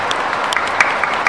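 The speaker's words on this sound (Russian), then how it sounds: "Под ваши аплодисменты" A crowd applauds at the unveiling of a memorial plaque for the OMSBON unit at Moscow's Dynamo stadium, a loud, dense, continuous clapping held close throughout.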